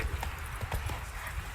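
Horse hooves clop in a rhythmic gallop in The Witcher 3 video game, steady mid-level thuds running under ambient game noise.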